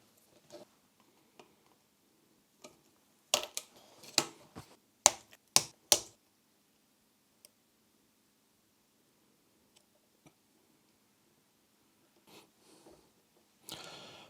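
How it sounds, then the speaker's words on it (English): Long pin headers being snipped to length on a Speeduino STM32 MCU card build, giving a handful of sharp, close clicks clustered mid-clip with quiet gaps between, no talking. "I have these long ones and I will just cut these to length."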